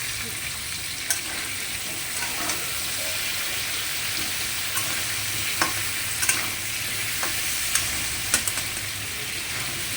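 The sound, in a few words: potatoes frying in oil with salt and turmeric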